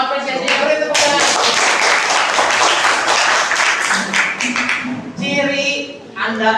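Group applause in an Indonesian classroom after a student team finishes presenting, loud broadband clapping that fills most of the stretch, with tonal voices and talk breaking in near the start and end.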